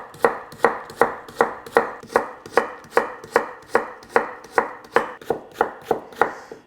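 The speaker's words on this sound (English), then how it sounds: "So stack your slices and just start cutting." A knife chops through stacked slices of Korean radish on a cutting board, steady rhythmic cuts about two per second, close and crisp, with no talking.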